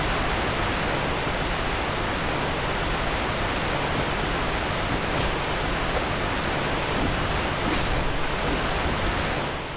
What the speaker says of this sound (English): it's so loud by this waterfall